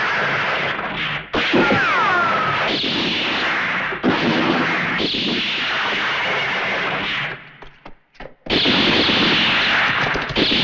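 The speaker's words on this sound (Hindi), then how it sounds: "कसम बंदूक की, अब तो गोली चलानी ही पड़ेगी" Loud bursts of gunfire rattle in rapid volleys, with a brief lull before the shooting resumes at full intensity.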